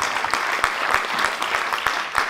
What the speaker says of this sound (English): They deserve the applause